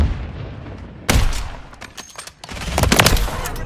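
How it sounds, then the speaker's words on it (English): Gunfire in Call of Duty, a sudden loud burst of rapid shots followed by scattered cracks and heavier reports, with a brief lull before another dense volley. "Taking effective fire!"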